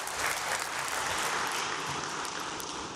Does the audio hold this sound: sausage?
no